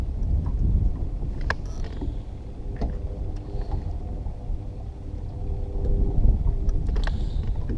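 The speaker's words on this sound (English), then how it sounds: "I specifically don't like having my gas motor running up near where I'm crappie fishing." A gas outboard motor on a fishing boat runs steadily during fall crappie fishing, giving a continuous low rumble with some wind noise and no talking.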